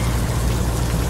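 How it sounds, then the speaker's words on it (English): Steady rain in a truck driving video game, a dense continuous hiss with a low rumble underneath, close and even throughout with no talk. "The rain will go away."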